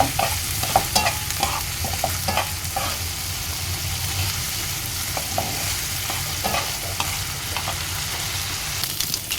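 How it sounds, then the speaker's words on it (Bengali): Prawns sizzle in a hot pan with salt while being stirred, producing continuous crackling frying noise with repeated scraping and clinking of the spoon against the pan, close and steady throughout. "লবণ দিয়ে নেড়ে করে গুছিয়ে নেব"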